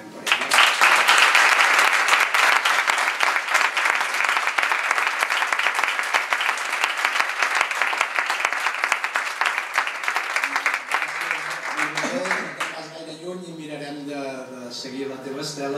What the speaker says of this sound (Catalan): demano un fort aplaudiment per ella